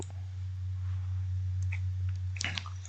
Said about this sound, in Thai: ใครมาเคี้ยวแก้ว